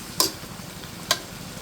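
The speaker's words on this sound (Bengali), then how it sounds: "গরম জলটা দিয়ে দিয়েছি, এখন একটু নেড়ে ছেড়ে দিচ্ছি" Ash gourd cooking with hilsa in a pot, just topped up with hot water, gets two brief scraping stir strokes about a second apart over a quiet low simmer. Close, short and without speech.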